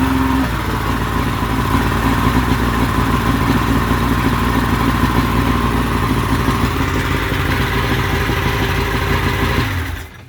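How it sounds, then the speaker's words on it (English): A boat motor with a faulty ignition switch runs steadily and loudly up close, a constant droning rumble that cuts out abruptly at the end, with no speech. "I heard the motor run"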